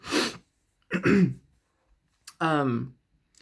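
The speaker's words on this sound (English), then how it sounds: "I have to cough." Three separate coughs and throat clears come close and loud, spaced by short silences, the last one raspy and drawn out.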